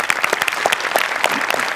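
A studio audience claps for a comedy stage show after a kabaddi-themed performance, giving a short burst of dense, brisk clapping that is close and loud and stays even throughout.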